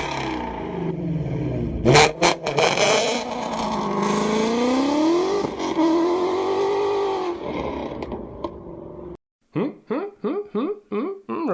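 A Ford Mustang GT350 V8 fitted with aftermarket Cooks 4x1 headers revs hard, a loud rising and falling wail with sharp blips, then a pause and a rapid series of short revs, captured close.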